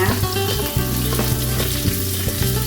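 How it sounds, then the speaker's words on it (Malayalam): Two thinly sliced onions sauté in a pan, giving a steady, loud close sizzle with light stirring scrapes throughout and no talking. "ഇനി നമുക്ക് ഇതിൽ സവാള ഇട്ടിട്ട് വാട്ടിയെടുക്കാം കേട്ടോ"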